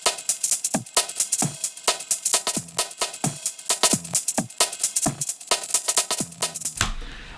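Chopped-up jungle breakbeat drum loop, rearranged for variation across the bar, with punchy kicks and snares and crisp hats in a fast, busy rhythm, loud and dry, ending with a short wash of noise.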